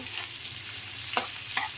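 Oil sizzles steadily as lengthwise-sliced onions fry, with a few sharp scraping stirs of a spoon against the pan.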